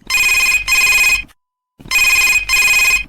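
Telephone ringing on a phone-in radio programme: two loud double-burst electronic rings separated by a short silence, close and clear with no talk.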